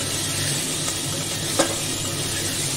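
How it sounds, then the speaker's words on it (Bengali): Cut eggplant fries in spice masala in a pan for a katla fish curry, giving a steady close sizzle with one sharp utensil clink near the middle. "একটু বেগুনটা ভাজা ভাজা করে নেব"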